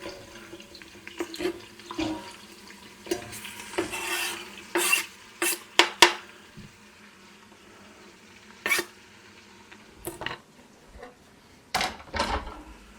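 Hamburger meat for chili is scraped and stirred in a pot over a low sizzle, with clanks and scrapes of a utensil against the pot and a few louder knocks and bursts of movement.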